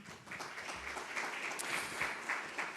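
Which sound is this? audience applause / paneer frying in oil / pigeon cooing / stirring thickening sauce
audience applause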